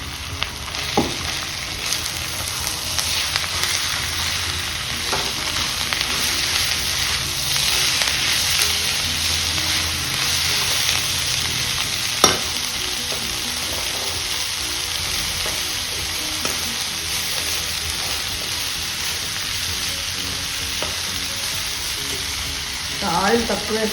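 Broad beans frying with onions in a pan for a beans and dry fish curry, a loud, steady sizzle with occasional stirring scrapes and clinks throughout, close up and with no talking.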